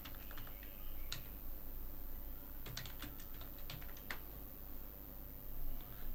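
Fingers typing on a computer keyboard, a steady run of light, quick clicks in irregular bursts, close and fairly quiet with no talking.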